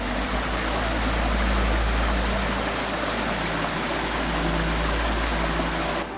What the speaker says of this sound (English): And the creek runs along here.